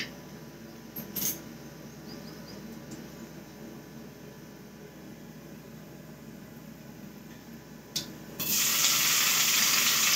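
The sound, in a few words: coconut frying in a pan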